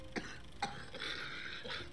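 The Joker in Batman: Arkham City coughs twice in quick, sharp bursts, followed by a raspy, breathy wheeze, moderately quiet with no speech.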